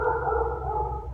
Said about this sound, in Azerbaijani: Onun hürüşünə bax.